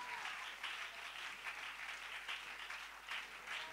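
A church congregation applauding together, steady dense clapping with rhythmic surges across several seconds, heard at moderate distance in a reverberant hall, with no talking over it.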